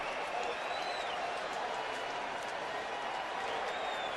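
Baseball crowd at Dodger Stadium during an NLCS playoff game, cheering in a dense, continuous roar heard from a distance, steady for the whole stretch with no clear voices on top.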